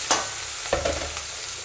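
Tomato roasts in a hot pan for an upma made with fresh field beans and sago, a short burst of sizzling broken by a few quick spatula stirs and clacks up close.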